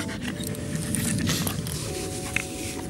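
A dog at a dog park pants close up in quick, rhythmic breaths, with a few faint crunching or chewing sounds mixed in, and no talk.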